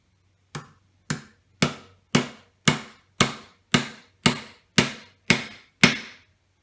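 A fitting being tapped onto a Tsurumi pump using a 1/2 inch socket, eleven sharp evenly spaced knocks, close and clear, each ringing briefly before the next strike.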